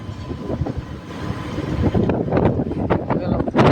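A train rumbles past close by at a closed railway level crossing with a heavy rolling roar and rhythmic clatter, mixed with gusty noise and traffic sounds.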